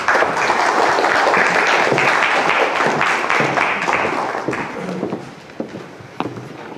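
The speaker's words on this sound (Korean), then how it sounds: "뜨거운 박수로 환영해 주시기 바랍니다." An audience gives warm applause to welcome a speaker at an investment seminar, steady crowd clapping that thins out into scattered claps and a few footsteps or taps.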